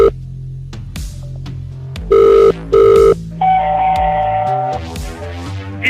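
A telephone rings in two loud, even bursts amid dialing tones and shifting electronic beeps and buzzes, a busy phone-line sequence heard up close.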